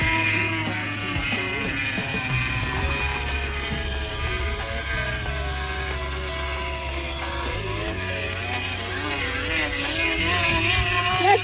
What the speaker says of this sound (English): It sounds like a motorcycle.